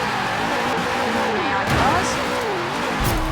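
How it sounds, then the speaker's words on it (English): Car drifting in the Forza Horizon 4 racing game, with a steady loud engine roar and sliding tyre noise throughout, pitch sweeping up and down as the car slides through the turn. "Here we go into the drift zone."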